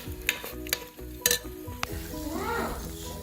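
Sizzling tempering (chhonk) for sarson ka saag, hot oil crackling steadily with sharp clinks of a spoon stirring against the pan, no voices.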